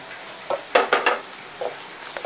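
Vegetables and egg pieces for egg fried rice stirred in a pan, giving a handful of short scraping clinks of a spoon against the pan over a faint sizzle, close and unaccompanied by talk.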